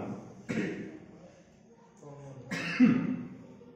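A person coughs twice in a quiet room, two short, close, harsh bursts with a pause between them.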